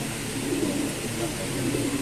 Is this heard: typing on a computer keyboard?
no